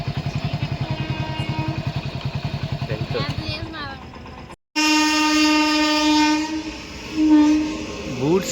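A goods train passing close by, first a rhythmic rumble of wagons clattering over the rails, then a loud sustained multi-tone horn blast with a brief break, the rumble continuing underneath.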